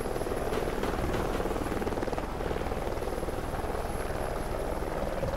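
Video game helicopter rotor beating steadily and loudly throughout, a dense continuous whirring drone with a faint voice barely present underneath.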